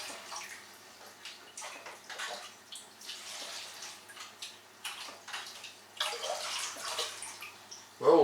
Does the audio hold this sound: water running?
yes